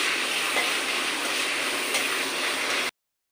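Whole spices (bay leaf, cinnamon, cardamom and mace) sizzle in hot oil for a chicken masala, a steady close hiss that holds evenly before cutting off abruptly.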